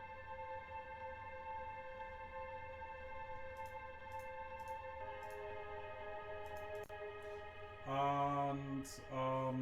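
Atmospheric electronic pad squashed under heavy OTT multiband compression, a sustained airy drone with hissy upper detail, faint ticking accents and a brighter swell near the end, from an orchestral game-trailer theme.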